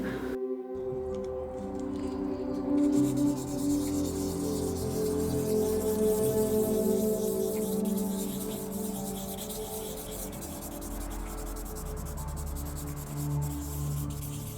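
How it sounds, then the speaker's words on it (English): Resin pieces are wet sanded by hand toward a buffed, glass-like finish, giving a continuous gritty rubbing and rasping that runs on steadily at close range without any voices. "Wet sanding is how we work it to a buffed out finish."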